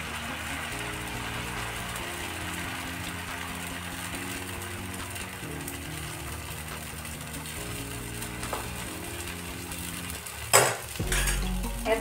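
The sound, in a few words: fasting dosa batter cooking on oiled griddle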